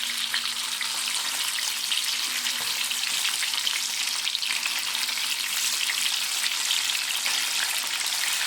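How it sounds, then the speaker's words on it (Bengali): Small chela fish frying in hot oil in a pan, a steady, busy sizzle and crackle that carries evenly and close throughout, with no talking. "আরও এক পিঠ আমি ভেজে নেব"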